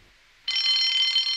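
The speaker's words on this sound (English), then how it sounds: "Soon came the alarm." An alarm bell bursts into continuous shrill ringing after a brief quiet moment, loud and sustained to the end with no voices.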